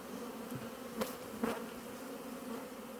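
Honey bees drone steadily around an open hive as a feeder is put back in late August, with a dense, even buzz and two brief louder swells as bees pass close by.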